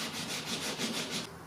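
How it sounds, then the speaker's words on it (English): Hand sanding on a Ford ZF Fairlane body panel, worked down to a masking tape edge: about six quick, even rasping back-and-forth strokes, close and moderately loud, before the rubbing stops. "I'm just sanding down to the edge of the tape, and I'll try and blend everything back."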